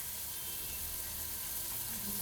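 Sliced onion frying in a pan for a spicy crab curry, a constant close hiss of sizzling oil with no pauses.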